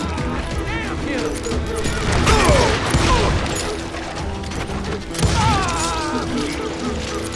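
Scattered gunfire and clattering combat noise in the Wild West shooter Call of Juarez: Gunslinger, with shots and impacts mixed under shouted voices and a steady background score.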